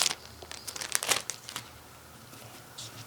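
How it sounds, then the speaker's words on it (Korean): Plastic wrapping is crinkled and pulled open to free a blunt tapestry needle and cotton yarn, giving close, quiet rustling and crackling bursts that fade into near silence. "비닐을 풀어서 꺼내 주세요."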